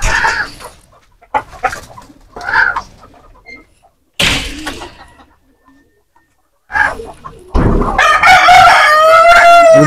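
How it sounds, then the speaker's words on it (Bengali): A native country rooster crows loudly and close by, a long strained call near the end, after scattered clucks and short bursts of farmyard noise separated by quiet gaps. "এই মোরগটা অবশ্য দেশি মোরগ"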